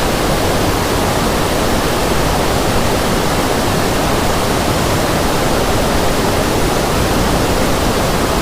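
A powerful waterfall at a hidden falls in the Valparai hills, its forceful water making a steady, loud, dense rushing roar that continues unbroken with no voices.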